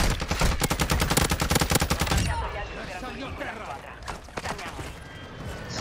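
Rapid automatic gunfire in a first-person shooter video game, a loud dense burst for about two seconds, then quieter game noise with a few scattered shots.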